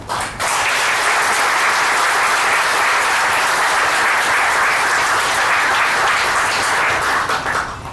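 Loud, dense applause from a large crowd at an event for girl students, an unbroken roar of clapping that holds steady for several seconds before cutting off.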